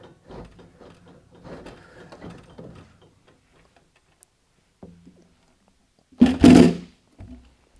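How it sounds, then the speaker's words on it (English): Heavy-duty slides on an ICON 73-inch roll cabinet drawer give a short, loud metallic rattle and clunk as the drawer is pulled out, following a few quieter handling noises, with no talking. "pull the drawer out of the way."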